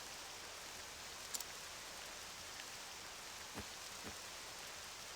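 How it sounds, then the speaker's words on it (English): Steady purple rain falls in Octopath Traveler 2, a soft, even hiss of drops on surfaces throughout, with a couple of faint taps and a brief higher click near the start. "The rain, it's purple?"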